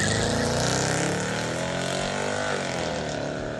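A Mercedes C55 AMG W203 with a 5.4-liter supercharged V8 roars loud and close in a continuous, dense engine drone whose pitch shifts slightly as it runs.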